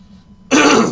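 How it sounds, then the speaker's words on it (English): A short, loud throat clearing up close, a rough raspy burst after a brief moment of near silence. "Damn, cannot clear my throat."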